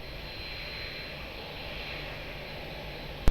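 Jet airliner taking off from runway 02 at Lisbon Airport, a steady distant engine roar holding level throughout with no talk, ending in a brief sharp knock.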